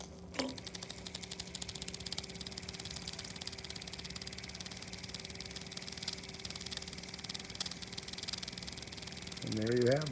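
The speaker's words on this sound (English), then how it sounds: "So this one's running on steam." A small alcohol-fired model steam engine runs steadily with a fast, even ticking beat and a low hum, heard close up; a voice begins talking near the end.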